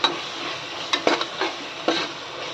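Ginger garlic paste sautés in a pan for goat intestine kulambu, making a steady close sizzle with a few quick spatula scrapes and taps, and no one talking.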